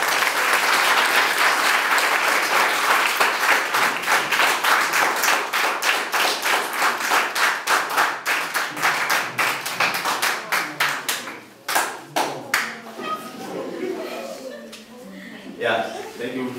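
An audience claps loudly and continuously, a dense crowd of hands that gradually thins into a few scattered claps as talk and chuckles come in near the end.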